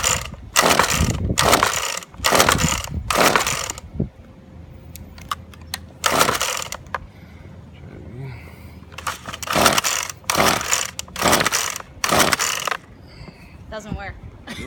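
A Husqvarna 125L string trimmer that will not start is pulled repeatedly on its recoil starter, giving a run of sharp ratcheting rips in quick succession, then a pause and more pulls, with brief talk between attempts.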